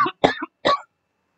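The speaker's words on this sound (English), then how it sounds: "Then I start coughing." A person still testing positive for an illness coughs three times in quick succession, close and loud, then falls silent.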